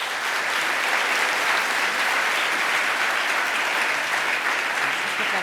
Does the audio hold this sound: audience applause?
yes